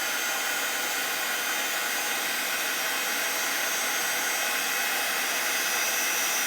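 A heat gun blows steadily and loudly to set embossing powder on a gingerbread-themed card, a constant close whooshing hiss with no pauses.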